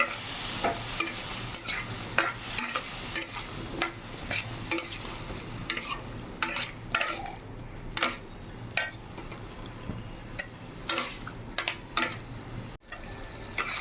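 Ground cumin and other spices are stir-fried with water in a pan, heard as a low sizzle under frequent sharp scraping and clinking of a utensil against the pan, some strokes quite loud.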